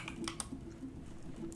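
Quiet typing on a computer keyboard, a handful of light, irregular key clicks spread across a short stretch against a low background hum.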